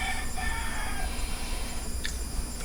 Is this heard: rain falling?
no